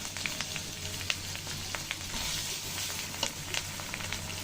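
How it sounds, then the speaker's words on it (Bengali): Turmeric, chili powder, green chilies and mustard paste sizzle and fry steadily in hot oil for a mustard hilsa curry, a close, continuous crackle with occasional sharper pops and stirring scrapes, no voices. "সব মশলা দিয়ে ভালো করে কষিয়ে নেব মশলাটা।"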